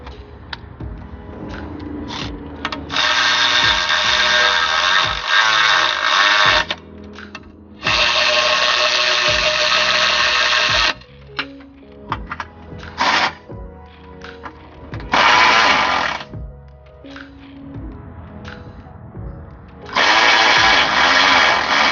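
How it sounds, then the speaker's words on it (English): A power drill or impact driver runs down torque rod bolts on a 2015-2019 Honda CR-V, sounding in four loud, sustained whirring bursts of a few seconds each, with quieter clicking and handling noise between them. "I threaded in my bolts for my torque rod, and I'm gonna start by just tightening them down."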